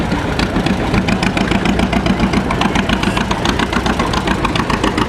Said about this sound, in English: Little tractor, Boland's. MT, it was produced after the war